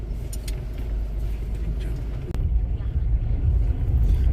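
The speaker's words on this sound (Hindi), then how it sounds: "रात में हमें इतनी हेवी ट्रैफिक मिल रही है, तो दिन में क्या हाल होता होगा।" Cars and heavy vehicles rumble past on an under-construction highway at night in heavy traffic, a steady close road roar with one sharp bump midway.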